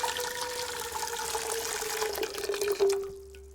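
Tap water gushes steadily into a huge metal pasta pan, a continuous rushing stream whose pitch climbs gently as the pot fills, then cuts off near the end.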